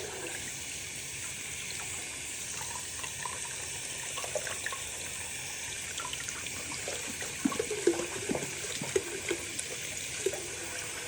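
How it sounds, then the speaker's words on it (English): Water runs and trickles while a baby's leg is rinsed at a sink, a steady close stream with small splashes and drips, louder near the end, no talking. "So now I'm going to rinse his leg off and let it dry."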